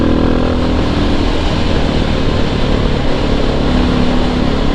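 A slightly modded Suzuki DR650 motorcycle engine runs loud and close, a dense continuous rumble with steady throttle held throughout, no voices over it.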